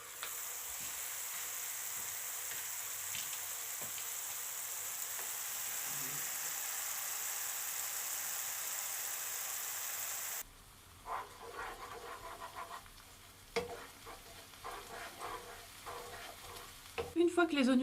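Onions and shallots frying in a pan, giving a steady soft sizzle for several seconds, then quieter intermittent clatters and stirring noises as the cooking continues close by.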